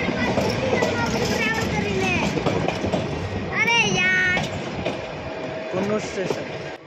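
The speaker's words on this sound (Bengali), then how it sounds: "কুন্নুর স্টেশনে পৌঁছে গাড়িটা কিছুটা এগিয়ে যায়" The Nilgiri toy train rumbles and clatters through Coonoor station on the Ooty–Coonoor line, with metallic squeals partway through, while voices talk over the steady noise.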